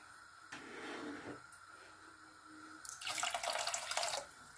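Water from a tap runs into a pot for making champorado, a faint trickle at first, then a louder, fuller rush of pouring in the last couple of seconds, with no talking.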